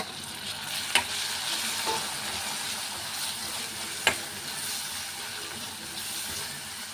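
Tomatoes fry in a pan for a curd curry, a steady broadband sizzle throughout with two sharp clinks of a spoon against the pan, close and alone with no talk.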